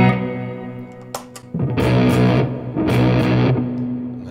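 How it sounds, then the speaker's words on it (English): A muddy, dark fuzz-distorted electric guitar through a Wampler Velvet Fuzz pedal with brightness all the way off plays a few heavy chords, with brief pauses between loud sustained strums. "so from all the way off, it's obviously very muddy."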